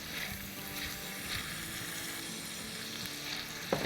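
Onions for a matar paneer masala curry sizzle in a pan after a spoonful of water is added, a soft, even hiss heard close, with a brief clack near the end.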